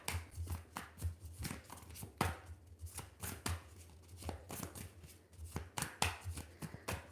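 Tarot cards being shuffled by hand in a series of crisp riffling bursts and soft taps, close and fairly quiet, with an irregular rhythm and no talking.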